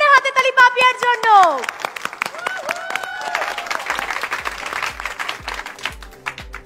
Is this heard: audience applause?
yes